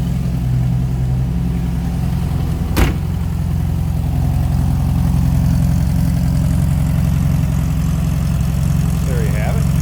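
A 1972 Porsche 914/4 with its mid-mounted engine idles steadily with a low, even rumble, close and continuous, with a single brief knock early on.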